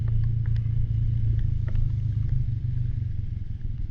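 Motorcycle engine climbing a hill on a mountain road trip in Kashmir: a steady, loud, close low rumble with clattery texture, constant throughout with no speech.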